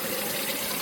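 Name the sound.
water pouring from leaking Chrysler 300C water pump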